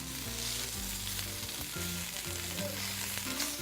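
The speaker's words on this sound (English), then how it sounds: "And I'm going to add, put the meat back in." Meat and vegetables sizzle steadily in a stir fry, a constant close frying hiss under a background music bed, with no talk.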